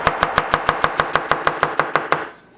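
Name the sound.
knife julienning an onion on a cutting board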